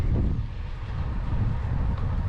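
Strong wind buffets the microphone during a bike ride with a low, rumbling roar that gusts unevenly throughout.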